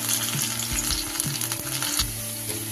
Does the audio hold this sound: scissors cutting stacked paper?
no